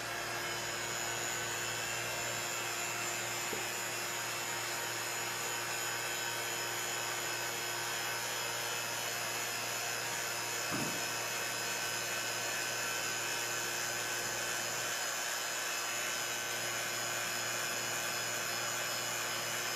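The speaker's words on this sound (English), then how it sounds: "Then we're gonna cover it with the vacuum chamber and then turn it on and see what" A vacuum chamber pump runs with a beaker of water inside, giving a steady, loud mechanical whir and hiss that holds constant throughout, with a few faint clicks beneath it.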